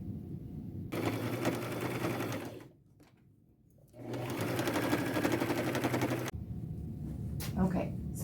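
A sewing machine stitches the shoulders of a patchwork denim poncho, running in two long loud bursts with a brief pause between, and a quieter stretch of handling at the end.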